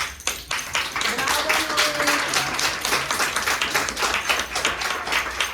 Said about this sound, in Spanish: vamos a darle un fuerte aplauso a Noé Aguirre, que pase.